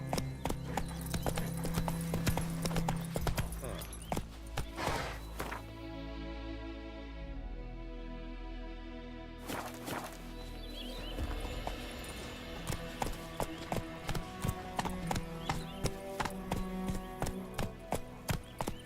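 Horse hooves clip-clopping at a steady walking rhythm in The Witcher 3, loud and close, with a brief pause midway before the hoofbeats resume.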